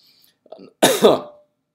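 A single throaty cough, preceded by a soft intake of breath, close and fairly loud, with nothing else around it.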